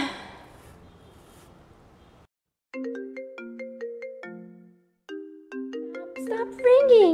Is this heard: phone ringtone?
yes